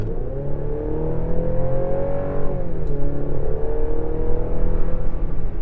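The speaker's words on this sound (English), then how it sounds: "The engine doesn't sound terrible. It sounds big and beefy, right?" A 2023 Chevy Colorado Z71's 2.7-liter turbocharged engine pulls steadily under acceleration, a loud, continuous rising drone heard from inside the cab with no talking.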